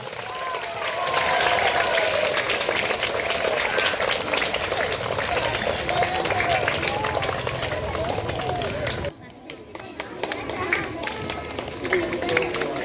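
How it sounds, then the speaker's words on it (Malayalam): A crowd at a school Teachers' Day event claps continuously in a dense, sustained round of applause with voices mixed in, fading and thinning toward the end. "നല്ലൊരു കൈയടി കൊടുക്കാം."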